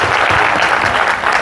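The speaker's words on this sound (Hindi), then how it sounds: "तो सर के लिए तालियां बनती हैं" Loud, dense audience applause at an RCM Nutricharge event in Faridabad, a steady wash of many hands clapping close by with no gaps.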